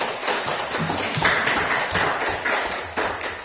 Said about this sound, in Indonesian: Kita aplaus dulu untuk kelompok 1.